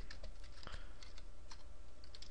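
Typing on a computer keyboard while writing Python code, with steady, close, quick keystroke clicks running throughout and no talking.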